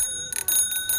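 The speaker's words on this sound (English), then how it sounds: "I found that the chime of the bell is a little bit more friendly" The handlebar bell on a Razor EcoSmart Metro electric scooter rings close up in a quick series of bright metallic chimes that overlap into a sustained ringing tone.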